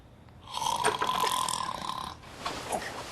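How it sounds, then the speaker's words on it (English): A person snoring loudly, one long rasping snore lasting well over a second, followed by a softer, shorter breath; close and alone, with no talking. "I snore. Like a hound from hell."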